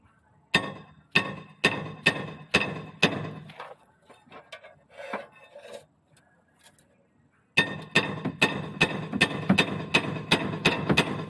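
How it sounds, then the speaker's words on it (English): Sharp metallic hammer strikes in a steady rhythm knock out a brake part on a 2009 Vauxhall Insignia, pausing for a few seconds of quieter clatter, then resuming with faster, evenly spaced blows. "just push it out on one side and then get a hammer"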